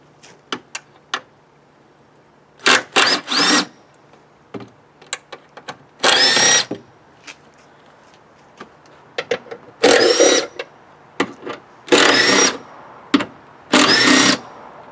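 Bursts of a cordless power tool, an impact driver, whirring as it removes bolts on a 2003 Kia Sorento 3.5 EX. They come in several short, loud runs with pauses, plus small clicks and handling noises between them and no talking.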